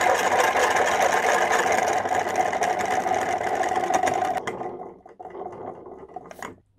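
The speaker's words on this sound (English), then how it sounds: "So when we turn the handle and we spin it fast enough," Hand-cranked Newton's colour wheel spinning on a small cog system, a steady whirring gear rumble close by that runs evenly, then fades and stops near the end as the handle slows.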